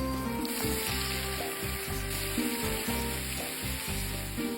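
Flour-battered squid frying in hot oil, a steady loud sizzle and crackle, close up and continuous, with music playing throughout.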